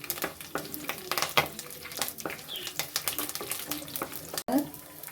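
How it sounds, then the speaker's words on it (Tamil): Curry leaves and green chilies fry in hot oil for Kerala fish curry, crackling and sizzling with stirring clatter and scraping, close and moderately loud, with brief spattering bursts. "இப்போ கருவேப்பிலை பொரிஞ்சிருச்சு."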